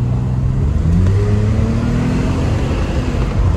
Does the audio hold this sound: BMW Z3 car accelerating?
yes